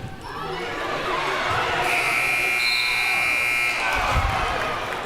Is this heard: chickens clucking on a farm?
no